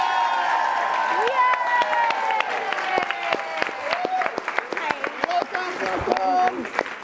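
Audience at PaleyFest NY 2024 for a Blue Bloods panel claps and cheers in a steady, loud wave, with whoops and shouts rising above the applause and voices calling out throughout.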